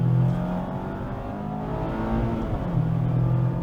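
Mazda MX-5 Miata ND3 engine droning steadily at high revs during a slide, a loud continuous tone with slight pitch shifts, heard up close without talk.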